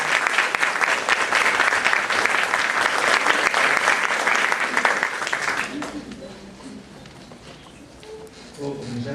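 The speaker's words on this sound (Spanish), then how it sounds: "Palmas, por favor" Applause from a university audience at a literary event in Lima, dense steady clapping for about six seconds before fading to scattered claps and murmurs.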